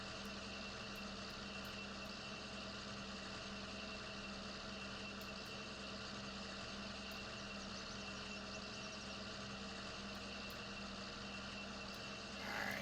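A John Deere 4440 tractor engine runs steadily on a farm during haying, a continuous low drone with a constant hum that stays even and close throughout, with no talk.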